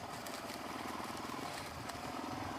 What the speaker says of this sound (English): I'm on my DRZ 400E, and again, it's got my DRZ 400 SM engine in it